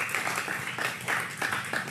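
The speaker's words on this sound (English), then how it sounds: "give a round of applause to yourselves and to Chelsea, Amy, Hope, Brad." An audience gives a round of applause at a fourth anniversary gathering, a short burst of dense clapping in rhythmic pulses, fairly close and lively.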